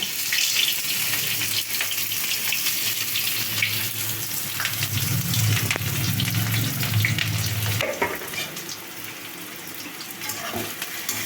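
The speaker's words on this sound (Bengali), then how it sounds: "সর্ষের তেল এখন গরম হয়ে গেছে এবার আমি দিয়ে দেবো পেঁয়াজ কুচি" Chopped onion hits hot mustard oil in a pan and sizzles loudly and steadily, a close, continuous frying hiss with a few stirring scrapes and no talking.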